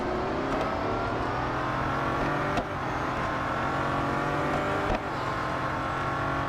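A Bugatti Centodieci races in the video game Real Racing 3, its engine a loud, sustained roar with shifting revs, broken by brief gear-change blips, with no talk over it.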